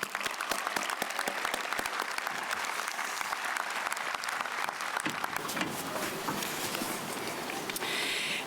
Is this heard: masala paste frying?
no